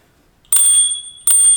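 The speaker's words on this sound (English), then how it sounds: "That's what the bell sounds like on a Bugatti scooter." Two bright electronic dings from the bell of a Bugatti electric scooter, each a sharp close ring with a sustained tone, separated by a short pause after a moment of silence.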